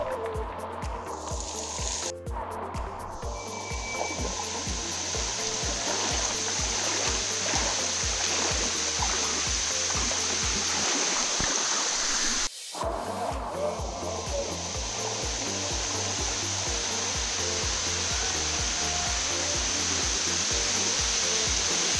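Salto Cristal waterfall in Paraguay, a loud, steady roar of falling water heard up close, continuous throughout with a brief dropout partway and a low rhythmic rumble beneath.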